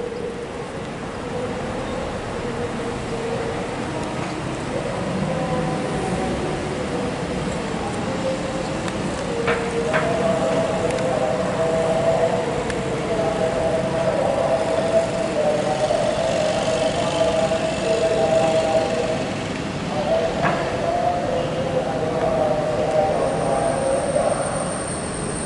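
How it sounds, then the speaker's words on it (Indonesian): A CIT inspection train rolls into Tegaluar high-speed rail station from the east, making a steady, continuous mechanical rumble with sustained tonal whines that stays at an even loudness throughout, with no talking. "CIT terlihat baru memasuki stasiun kereta cepat Tegaluar dari arah timur"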